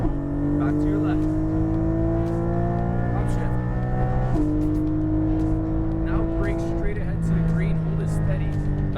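Porsche Cayman GT4 on a race track accelerating hard through the gears, its loud engine note climbing steadily with a sharp upshift drop midway and another later, an instructor's voice talking over the engine.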